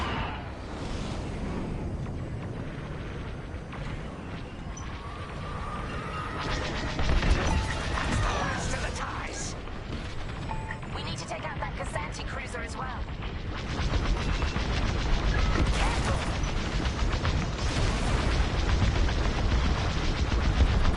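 Blaster fire and explosions crackle through a Star Wars Squadrons space dogfight, dense and continuous over engine roar and rattling impacts, with bursts of rapid shots rising and falling for the whole stretch.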